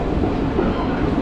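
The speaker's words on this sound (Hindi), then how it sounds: "फिर भी हमारी जो ट्रेन है वो इस स्टेशन को स्किप कर रही है" Haldibari–Kolkata Superfast Intercity Express, an Eastern Railway train, rolling through a station without stopping, heard from on board as a steady, loud low rumble of wheels and carriages with no break.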